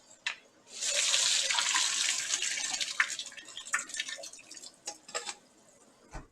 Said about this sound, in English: we're going to go ahead and put some water down the drain